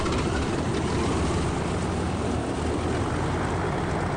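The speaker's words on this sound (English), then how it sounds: "our pilots start their engines" Aircraft engines starting on the tarmac at the 2007 Red Bull Air Race in San Diego, a loud, dense, unbroken roar that stays level throughout with no talk over it.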